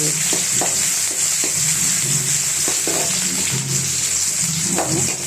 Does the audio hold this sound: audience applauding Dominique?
no